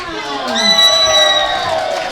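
A wrestling crowd shouts and cheers loudly for a wrestler's entrance, high excited whoops and screams swelling and holding, close and strong, with crowd voices blending into a sustained roar.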